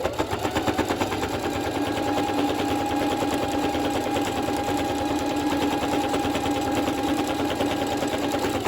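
Sewing machine running steadily as it edge-stitches along a quilted coat, a continuous close, even mechanical whir with rapid needle chatter throughout, no voices.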